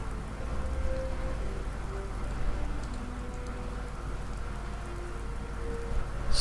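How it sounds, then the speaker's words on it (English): Rain falling in the video game Skyrim, a steady hiss of rainfall with faint low tones under it, holding at an even level without breaks. "So that's what's going on right now for the rain."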